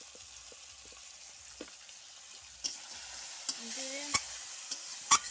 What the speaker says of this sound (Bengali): মশলাটা তেল ছাড়া অবধি ভালো করে কষাই করে নেব।